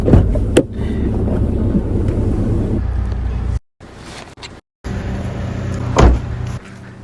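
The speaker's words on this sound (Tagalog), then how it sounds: "yung tunog ng sasakyan" Steady low vehicle rumble, with a couple of abrupt silent breaks, a few sharp knocks, and a brief louder swell near the end.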